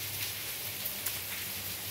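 Steady light rain hisses softly and evenly on a home balcony, with a faint low hum underneath and a couple of small drip ticks.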